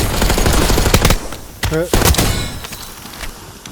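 Loud bursts of automatic gunfire in Black Ops 6 Warzone, rapid shots crowding the first second and a half before a short break and scattered further shots, with a voice cutting in midway.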